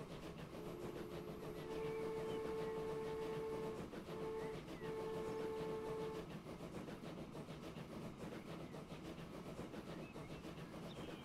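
A big train in the Transport Fever 2 game rumbles along with rhythmic clatter of wheels on track, and a sustained horn sounds twice in the first half over the continuous rolling noise.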